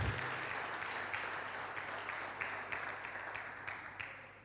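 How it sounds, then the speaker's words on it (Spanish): A church congregation applauds during a Spanish-language worship service, a dense, steady wash of many hands clapping that fills the space and slowly thins toward the end. "Dale un aplauso al Señor, aleluya."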